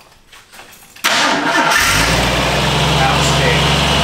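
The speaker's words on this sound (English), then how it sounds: "So we're gonna have a cold start." 1983 Jeep CJ-7 with its original carburetor cold-starting: a brief crank, then the engine catches and settles into a loud, steady idle close by, with a short spoken word just before.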